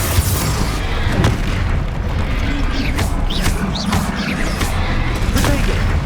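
Explosive spell casts in Hogwarts Legacy combat, a steady barrage of booming blasts and crackling impacts layered over continuous battle noise, with a few sharp bursts standing out.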